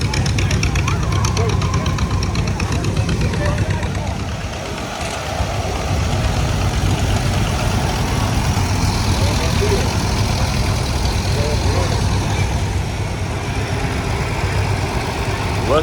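A Ford tractor idles at a tractor show, a steady low engine rumble running throughout amid outdoor crowd noise and nearby talk.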